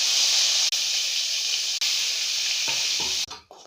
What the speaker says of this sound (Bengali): তেল দিচ্ছি, সাদা তেলে পটলগুলো ভেজে নেব।